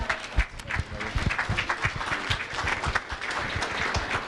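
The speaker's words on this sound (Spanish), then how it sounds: "Démosle la bienvenida a Stephen Clark, por favor, un aplauso." An audience claps steadily to welcome a speaker at a talk on cannabis in Mexico. The dense, sustained applause fills the room at close range, with voices mixed in.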